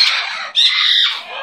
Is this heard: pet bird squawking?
yes